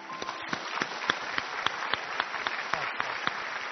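Audience applause on a televised stage as a clapper-talk performer walks on, a dense steady wash of clapping with sharp individual claps popping through, evenly sustained and fairly distant.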